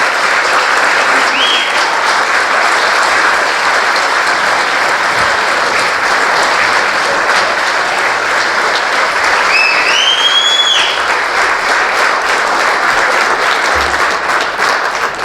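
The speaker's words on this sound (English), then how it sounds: "Let's give them a huge round of applause." An audience gives a long, loud round of applause for Fort Kent Fire and Rescue at its 100th anniversary celebration, dense crowd clapping sustained evenly for fifteen seconds with a few faint whoops.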